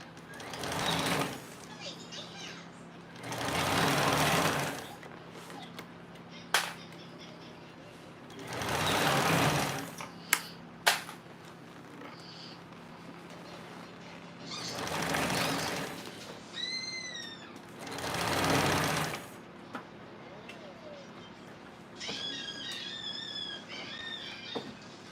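A home sewing machine runs in about five separate bursts of stitching and back stitching, each a few seconds long and separated by short pauses with small clicks and handling sounds.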